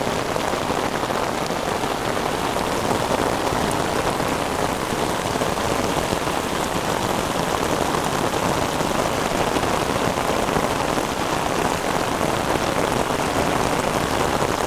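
Heavy rain drums down without pause during flooding around an old countryside house, a dense, loud, even roar of falling water with no voices.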